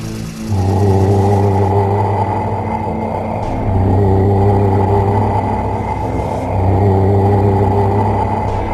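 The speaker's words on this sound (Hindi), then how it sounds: "गुल्ली ने गाड़ी की स्पीड बढ़ाई और तीनों वहां से फरार हो गए" A car speeds up in an animated zombie horror story, its engine rumbling loud and close in three rising surges of acceleration separated by brief gear-change dips, with no speech over it.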